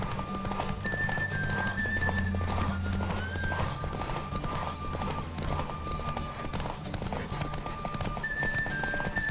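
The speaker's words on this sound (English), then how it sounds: "Don't spare the horse! I adore the speed, the rush of air!" A horse gallops with rapid, steady clip-clop hoofbeats and whinnies a few times in The Witcher 3 video game, close and continuous, with a faint whistling tone above.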